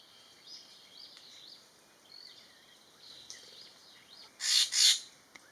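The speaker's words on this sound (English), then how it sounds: "Again, more laughing thrushes, probably the most common birds we're going to see here" Greater necklaced laughingthrushes call in forest at Kaeng Krachan, Thailand: faint, wavering whistled phrases repeat in the distance, then two loud, harsh squawks burst close by near the end.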